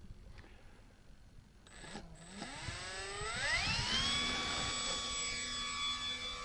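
A Dynam BF109G 1270mm radio-controlled warbird's electric motor whines up from a low hum into a loud, rising high-pitched scream as it throttles up for takeoff, then holds a steady strong tone nearby.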